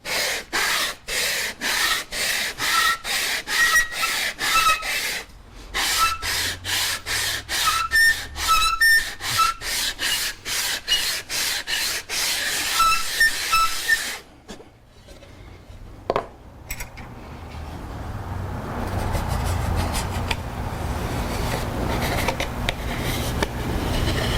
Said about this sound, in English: I'm just going to rub it on here to sand the top flat